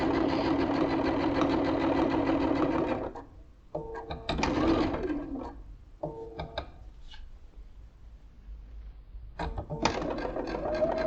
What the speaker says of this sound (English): I'm following the part of the foot to put my stitch slightly to the side.